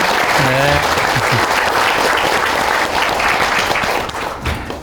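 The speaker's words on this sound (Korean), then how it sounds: "여러분 두 분에게 박수 한번 부탁드립니다" An audience at a lecture hall talk breaks into loud, sustained applause that fills the room, starting under a speaking voice and carrying on steadily before tapering near the end.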